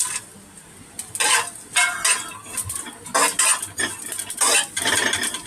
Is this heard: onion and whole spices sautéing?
yes